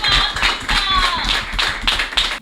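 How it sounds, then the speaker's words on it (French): An audience at the closing ceremony of a youth leadership camp in Benin claps in loose, rhythmic bursts, close and fairly loud, with some brighter individual claps standing out. "Il faut les applaudir."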